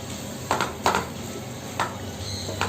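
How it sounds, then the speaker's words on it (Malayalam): Onions being stirred with soy sauce in a pan for a paneer sweet corn kurma, with four distinct utensil scrapes and clinks over a faint steady sizzle, close by and without talk. "എന്നിട്ട് ഈ സവാളയുമായിട്ട് നന്നായിട്ട് മിക്സ് ചെയ്യുക."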